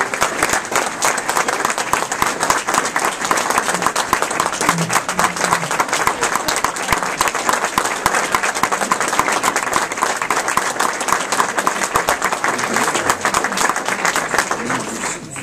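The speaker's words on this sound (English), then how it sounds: "How about another rousing applause for John Salzer and the entire group?" Steady, dense applause from an audience at an outdoor United Way community gathering in Central Oregon carries on evenly for about fifteen seconds with no pause.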